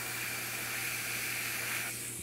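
An airbrush releases a steady, close hiss of compressed air misting paint onto a 1/4 scale Aquaman figure, continuous and even before tapering off near the end.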